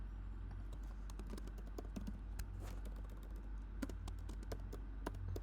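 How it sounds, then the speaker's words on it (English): Continuous typing on a computer keyboard during coding work, with rapid irregular key clicks and occasional louder taps over a low steady hum, close and fairly quiet. "I'm almost done typing this entire thing."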